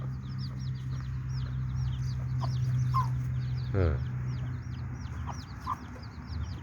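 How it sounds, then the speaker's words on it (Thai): A hen clucks softly among her chicks, whose high peeping chirps repeat throughout, close by, over a steady low background hum, with a brief louder call midway. "ไก่เลี้ยงลูกไก่"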